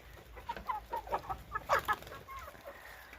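Chickens cluck and peck in a village yard, with short soft clucks coming in a loose, irregular patter at a moderate distance.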